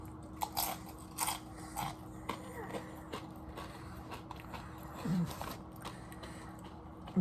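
Ranch-flavored Dorito chips dipped in roasted pickle dip are bitten and chewed close to the mic in quiet, irregular crunches with soft pauses between bites.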